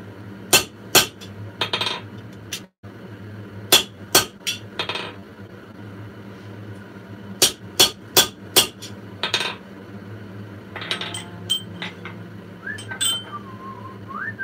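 Hammer blows shaping a forged steel bottle opener, sharp metallic strikes arriving in quick clusters of two or three with short pauses between, ringing over a steady shop hum, with a brief whistle-like tone near the end.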